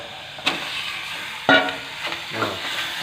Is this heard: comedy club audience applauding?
no